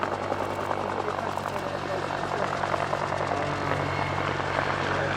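A Westland Whirlwind helicopter with a nose-mounted Gnome turbine engine runs at an airshow, giving a continuous droning whine with rhythmic rotor beating that stays steady and fairly distant throughout.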